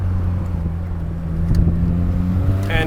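Honda Civic Si with a rusted exhaust, engine droning low and loud from inside the car, then swelling as the throttle opens, with a rising whine at the very end.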